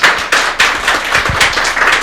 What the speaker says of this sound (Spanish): Un aplauso a la química.